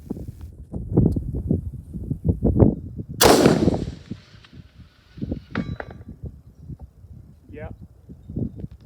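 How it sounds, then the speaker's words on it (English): A Bergara B14 Wilderness Terrain rifle in 6.5 Creedmoor fires one sharp, loud shot at a 600-yard target, a single crack with a short tail amid outdoor conversation. "Now it's my turn to get behind the rifle at 600 yards and see what this new scope could do."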